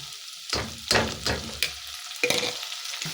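Dried shrimp is stirred in a pan while cooking miswa with patola, giving several distinct scraping and sizzling bursts with short quiet gaps between them.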